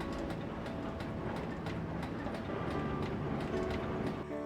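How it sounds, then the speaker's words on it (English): A British Rail diesel locomotive, D5500, roars steadily as it hauls a coal train up a hill toward a station, a continuous heavy engine drone with rhythmic clattering of wheels over rail joints throughout. "D5500's engine roared into life as he attacked the hill."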